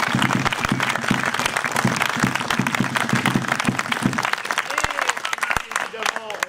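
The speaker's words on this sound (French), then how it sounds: "Donc on applaudit les 5 saisons de Colmar." An audience at a theatre performance on the Molière tour in Haut Verdon applauds the 5 saisons de Colmar troupe, dense steady clapping that holds loud for several seconds before thinning out into scattered claps at the end.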